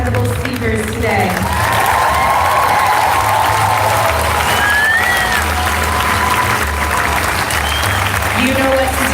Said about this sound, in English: Can I get one more round of applause for our incredible speakers today?